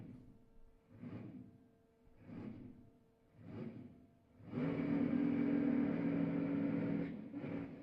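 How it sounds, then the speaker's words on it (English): Roots-supercharged small-block Chevy engine in a drag racing car at an NHRA event, heard as three short revving blips followed by a loud, sustained full-throttle roar and a final rev. "There's a Root supercharger sitting on top of that small block Chevy power plant"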